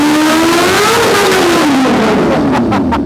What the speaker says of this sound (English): Something about 280 horsepower that'll shred a rear tire.